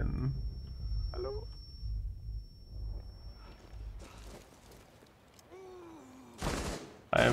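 Gunfire in Rainbow Six Siege, a few short bursts of shots amid low game rumble, with a sharp loud burst near the end; someone talks excitedly over parts of it.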